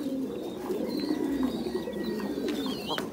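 Pigeons coo steadily in pens on a pigeon farm, several birds overlapping in low, throaty murmurs with faint chirps and rustling, fairly close and continuous with no talk.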